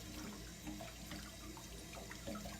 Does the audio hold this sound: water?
yes